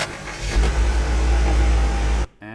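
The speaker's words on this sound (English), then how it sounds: "car starting and slowly driving. Simple car noise" AI-generated car sound effect of an engine starting and slowly pulling away, a steady loud low rumble with rising revs that cuts off abruptly near the end.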